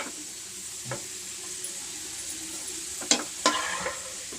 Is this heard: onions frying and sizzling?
yes